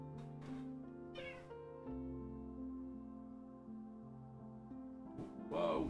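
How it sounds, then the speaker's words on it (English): A cat meows in a drawn-out, tonal cry lasting several seconds, close and fairly quiet, with a few brief clicks and a louder burst at the end. "Yeah, you can hear the cat."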